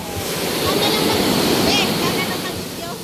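Sea waves surge and wash close by during boarding onto a boat, with loud rolling surf and gusty wind noise and voices speaking in the background.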